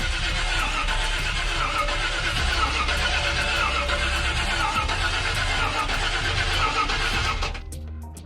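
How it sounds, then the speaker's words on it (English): A square-body truck's stuck starter grinds and cranks continuously at a loud, close level for several seconds, then cuts off abruptly with a few faint clicks. "Uh-oh, starter stuck."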